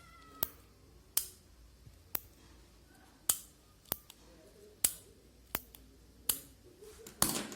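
A Linc Starnock retractable ball pen is clicked repeatedly, giving about ten sharp, close, dry clicks at uneven intervals of roughly a second, with no talking.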